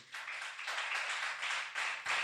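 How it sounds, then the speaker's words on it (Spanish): A church congregation claps together, a fairly faint but steady run of rhythmic group clapping with brief dips between bursts. "Denle un fuerte aplauso a Dios."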